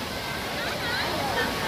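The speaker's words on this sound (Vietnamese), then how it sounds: "Ôi cái sóng kìa, đã ghê." Waves at an artificial lake resort in Binh Duong, Vietnam, a steady, broad wash of surf filling the scene without pause.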